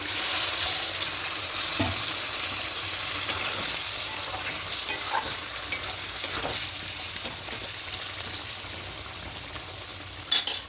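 Marinade water poured onto sautéed chicken for a quick chicken biryani makes a strong sizzle that slowly settles into steady frying, with occasional clinks and scrapes of stirring close by and no talk.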